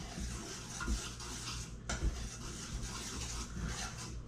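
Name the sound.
whisking dry bread ingredients together in a bowl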